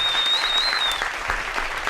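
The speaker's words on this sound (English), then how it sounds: "Let's go ahead and get the claps in, man. Get the claps in." A studio audience claps briefly to welcome former Giants running back Rashad Jennings, a short burst of dense applause with a faint whistle-like tone over the first second.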